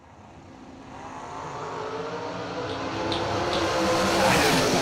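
Drag racing door cars launch down the strip, engine roar building steadily from moderate to loud over several seconds, with a crowd-and-track ambience beneath.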